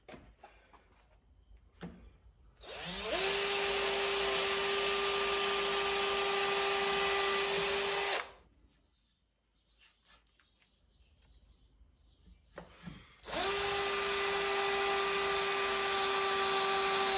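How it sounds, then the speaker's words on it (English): A power drill whirs steadily for about five seconds, stops, then starts again after a pause, a high motor whine with a grinding edge, close by, drilling into metal on a Land Cruiser FJ40 cowl vent door. "right now we're going to drill this out"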